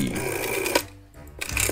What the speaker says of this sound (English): It's ringing. Won't someone answer the phone?